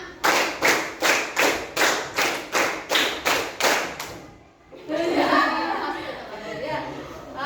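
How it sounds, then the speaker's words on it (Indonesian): Teacher trainees at a university in Cirebon clap together in a rehearsed pattern, about a dozen crisp, evenly timed group claps in a row, followed by a pause and then a murmur of chattering voices. "Dua kali tepuk lima."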